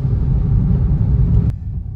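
Hyundai Verna car, modified with added fog lamps, driving on the Mumbai Goa highway in rain: a steady close low engine and road rumble that drops off slightly partway through.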